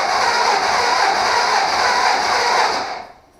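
A 2008 WR dirt bike's electric starter spins the engine freely with no compression, a steady fast whirring drone that runs evenly for about three seconds and then cuts off.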